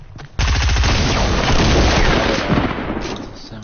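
Rapid, loud bursts of automatic sniper rifle fire in a video game, a sustained volley of close shots after a brief quiet start, fading slightly toward the end.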